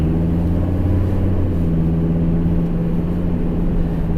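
A car drives toward Chilhowie after leaving the highway at exit 35, with a steady low engine drone and road rumble that stay constant throughout.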